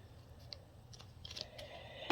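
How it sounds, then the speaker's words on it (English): Small snipper scissors trim fabric around an in-the-hoop embroidered hand sanitizer pouch, giving several faint, crisp snips at irregular intervals. The last snip is slightly louder, with no voices. "just get your little snipper scissors"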